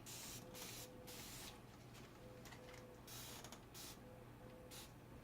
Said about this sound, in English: Spray some water here.